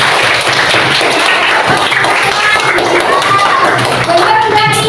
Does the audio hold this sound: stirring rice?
no